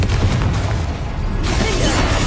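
A Confringo fire spell blasts in Hogwarts Legacy, a heavy booming explosion with a broad rumbling burst that swells, dips briefly, then surges again, dense and loud throughout with no talk.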